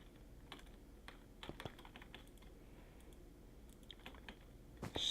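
A Minecraft redstone machine clicks away while it loads stone into chests, a faint, irregular run of small ticks and taps with a few sharper clicks near the end.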